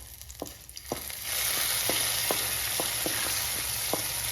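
Fried mustard seed tempering poured into mango pulissery, a sudden loud sizzle that starts after a second and holds steady, with light ticks of a spoon before it.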